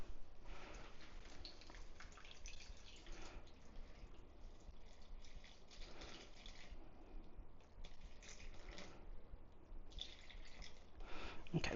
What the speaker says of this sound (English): And this is 400 grams of filtered water.